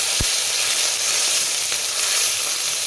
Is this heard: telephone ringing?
no